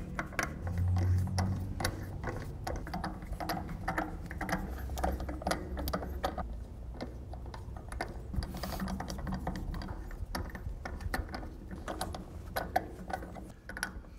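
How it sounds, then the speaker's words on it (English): A socket ratchet tightens the lug nuts on a trailer wheel against the hub, producing a continuous close clicking of the ratchet pawl with metallic clanks throughout. "I'm gonna take a socket make sure the wheel is seated against the hub, and I'm going to tighten these the rest of the way."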